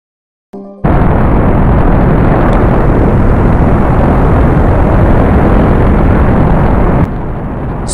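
A rocket launches in the space game Spaceflight Simulator with a sudden loud, dense roar that stays steady and continuous for several seconds and then drops slightly in level near the end. No one speaks over it.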